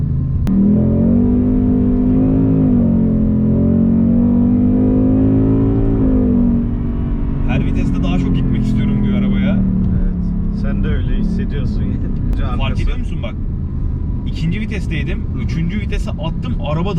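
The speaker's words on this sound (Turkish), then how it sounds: "Araç sıfırdan yüze ulaşmaya çalışırken çok fazla patinaj çekiyor" A Ford Mustang 5.0 GT fastback launches hard from a standstill, its V8 rumble climbing steadily and loud with wheelspin, while someone talks over the engine throughout.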